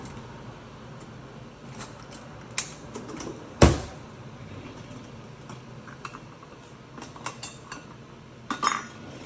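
A metal tablespoon clinks and taps against kitchenware while salt is measured for canning red onions: sparse light clinks with one sharper knock midway and a few more near the end over quiet room tone.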